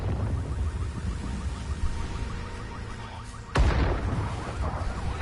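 Explosions tearing through London in the Watch Dogs Legion video game, a low rumbling blast bed with a sharp, louder boom hitting partway through, then continued heavy rumble.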